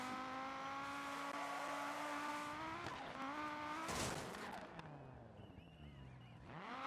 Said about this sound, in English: Oh, look at this drifting, bro.